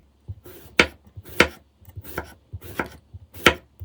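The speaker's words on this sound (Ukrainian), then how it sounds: "Починаю приготування салату з огірка. Відрізаю кінчик і нарізаю тоненькими слайсами." A knife slices a cucumber into thin slices on a cutting board, about seven sharp, crisp cuts in an uneven rhythm, close and clear with no talking.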